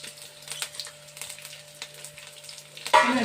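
Tempering spices crackle in hot oil over a low flame for a bitter gourd fry, with soft scattered pops and light hiss and a sharper burst of sizzle at the very end.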